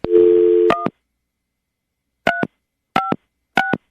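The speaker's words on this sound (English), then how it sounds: "we're going to dial now" A steady telephone dial tone gives way to a quick pair of keypad tones, then three more separate dialing tones spaced about a second apart, clean and loud with silence between.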